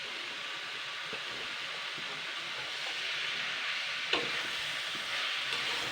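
Chopped vegetables frying in a hot pan make a steady broadband sizzle that swells slightly as they go in, with a single faint clink partway through and no talk.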